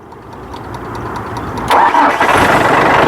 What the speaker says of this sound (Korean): 시동을 걸게 되면